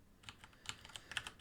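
Someone types manually on a computer keyboard while programming in C, producing a short run of faint, irregular keystrokes close to the microphone.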